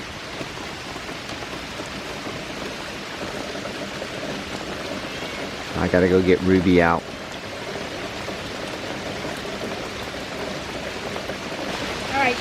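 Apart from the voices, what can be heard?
rain falling outside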